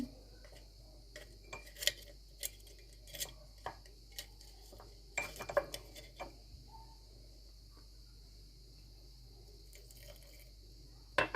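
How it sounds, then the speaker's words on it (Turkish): A wooden spoon stirs bread dough made with chickpea-scented yeast and lukewarm water, producing faint, irregular soft knocks and squelches against the bowl in a quiet room. "Şöyle tahta bir kaşıkla karıştırıyorum."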